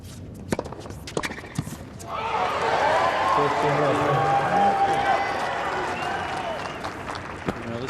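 Crowd applause at a 2008 Indian Wells tennis match between Hewitt and Querrey: scattered claps and thumps build into sustained loud clapping and cheering that slowly tapers, with a commentator talking over it.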